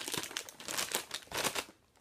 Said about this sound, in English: Sorry for the crinkling. These are by Hostess.